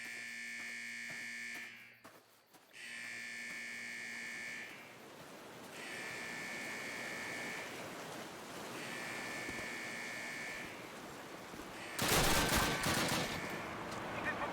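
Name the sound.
gunfire in Call of Duty video game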